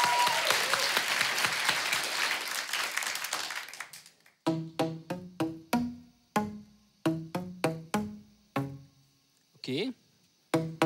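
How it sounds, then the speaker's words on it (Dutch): A studio audience on a Dutch TV lab show applauds loudly for Siegfried Smits for about four seconds, then the clapping stops and a series of sharp, ringing percussive strikes follows in an uneven rhythm. "Applaus voor Siegfried Smits."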